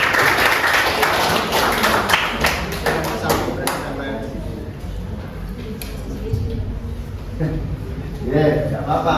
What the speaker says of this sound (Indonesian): Oke, tepuk tangan dulu, Mas Bagas.